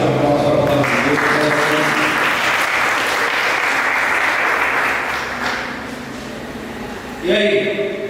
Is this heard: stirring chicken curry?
no